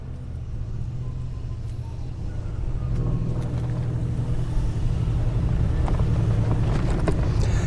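Permobil F3 front-wheel-drive power wheelchair with a 12-inch seat lift rolling over bumpy grass outdoors, a steady low motor hum with rustling and rattling that grows slightly louder partway through, with faint wind noise.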